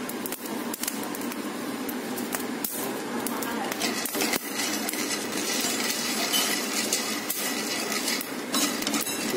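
Coffee beans roasting at home without a roasting machine reach first crack, giving scattered popcorn-like crackles and snaps over a steady hissing noise, fairly quiet and continuous.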